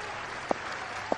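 A cricket crowd applauds and cheers for a batsman on 73 runs during a match on radio commentary, a steady wash of clapping with two brief sharper knocks.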